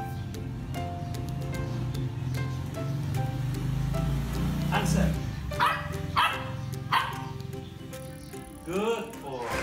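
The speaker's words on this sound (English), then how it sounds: "The dog will bark as many times as the numbers he holds up." A trained dog counting out numbers by barking delivers a short series of separate woofs in the later seconds, spaced apart and close by, after a stretch of background murmur and studio sound.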